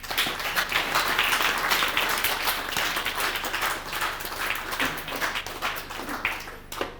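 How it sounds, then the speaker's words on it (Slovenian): A church audience claps in a dense, continuous patter of applause that holds steady for several seconds, with no talking. "dajmo en aplavz Jesu"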